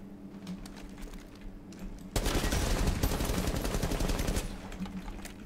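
A sudden burst of rapid automatic gunfire in Rainbow Six Siege, loud and continuous for a couple of seconds, then it fades back to quieter ambient noise.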